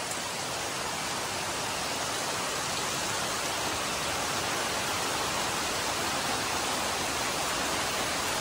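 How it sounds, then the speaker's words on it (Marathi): Heavy monsoon rain pours steadily over a Konkan village in Maharashtra, India, a dense, unbroken roar of falling water that stays loud and even throughout with no voices. "हे बघा कसं किती पाऊस होत आहे."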